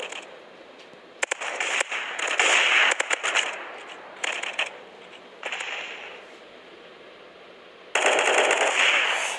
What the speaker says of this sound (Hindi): यार ये शॉट गन यूज कर रहे हैं